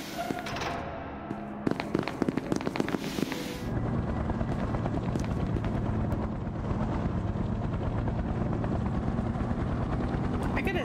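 Helicopter in the video game SCP: Secret Lab, a loud continuous rotor thrum and engine drone that builds and holds steady, with people talking over it.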